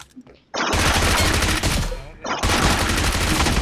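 Loud machine gun fire in the video game BGMI comes as two long sustained bursts of rapid shots, close and dense, separated by a brief gap.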